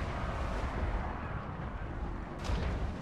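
A catapult in the Total War Warhammer strategy game fires and explodes as a low, rumbling boom that rolls through the whole stretch, with a brief sharper burst near the end.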